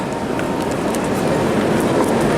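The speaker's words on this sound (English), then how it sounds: "This is Gare du Nord, just getting off the train here." A train at Gare du Nord station in Paris, a steady broad rumble of rolling stock with faint rattles and hiss, close and continuous.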